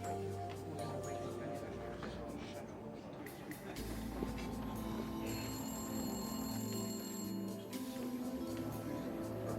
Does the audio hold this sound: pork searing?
no